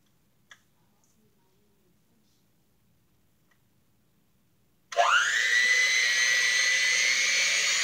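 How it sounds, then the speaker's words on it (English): After a few quiet seconds with a faint tick, an electric hand mixer whirs on abruptly for sweet potato pie filling, rising to a steady, loud, close motor whine with a harmonic hum. "I'm going to put my mixer on 3. I'm going to mix everything up together"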